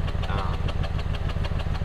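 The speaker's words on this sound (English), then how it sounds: "It's making this weird sort of puff sound that you might be able to hear" A supercharged Toyota Tundra pickup truck idling with its exhaust valve closed, a low, rumbling pulse and soft rhythmic puffing from the exhaust, steady and close.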